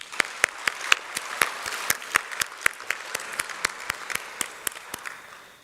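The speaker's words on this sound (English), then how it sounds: "let's give a big round of applause for mathematician" Sparse applause at a plenary session of an award ceremony for mathematics teachers, a handful of distinct claps sounding at a loose, fairly regular rhythm over a faint background, close and crisp, without talk.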